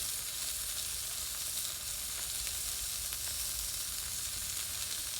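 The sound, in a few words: tri-tip and sausage cooking on charcoal BBQ grill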